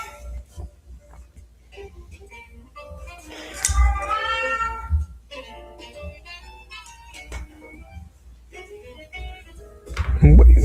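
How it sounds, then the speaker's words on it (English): A pet cat meows close by during a live drawing session indoors, a few drawn-out cries among scattered rustling and handling noises, with a louder thump at the end. "My cat goes in."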